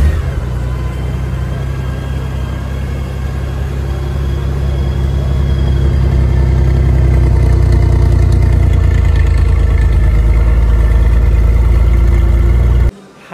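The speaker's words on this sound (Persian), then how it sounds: "بریم صدای زیبا با یک سراگذاری حرفه‌ای روی این موتور رو ببینیم" Honda Gold Wing motorcycle fitted with an aftermarket exhaust and many accessories, its engine idling with a steady deep rumble, loud and close, running without pause until it cuts off abruptly near the end.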